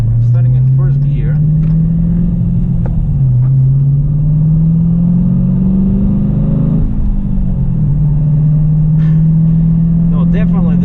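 A 2018 Dodge Challenger R/T 392 Scat Pack 6.4L Hemi V8 with an AIRAID cold air intake drones and rumbles steadily, pitch rising slowly as it accelerates from first gear, dipping and climbing again, with someone talking over it.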